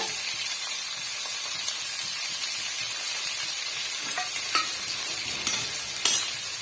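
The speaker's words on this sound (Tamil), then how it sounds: "இது கூடவே நாலஞ்சு வரமிளகா ரெண்டு பச்சை மிளகாய் வந்து கட் பண்ணி வச்சிருக்கேன் இதையும் வந்து சேர்த்துக்கலாங்க" Dried red and green chilies sizzle in hot oil in a frying pan with curry leaves, a steady close hiss broken by a few light scrapes of stirring near the end.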